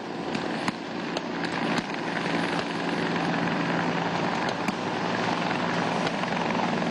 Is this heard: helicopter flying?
yes